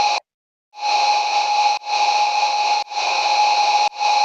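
A heavily reverbed synth drone layer from a Massive patch for a future bass track, swelling in as a bright sustained tone that cuts off and restarts in roughly one-second blocks, loud and with no talking.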